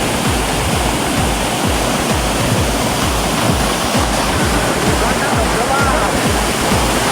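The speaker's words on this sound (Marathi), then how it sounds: "मंदागडी पर्वताच्या पायथ्याशी आहे हा गोगाटा धबधबा" The Ghogata waterfall at the foot of a mountain pours down in a constant, loud roar of rushing water, a broad unbroken wash of noise filling the whole stretch.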